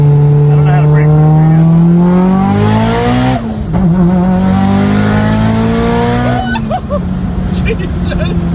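A big-turbo Mitsubishi Eclipse GSX (DSM) with a 6870 PTE turbo accelerates hard, its engine note climbing steadily in loud rising sweeps, dropping briefly at a shift, then climbing again, with excited voices talking over it.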